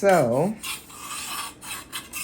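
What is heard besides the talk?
metal on metal scraping of cake pans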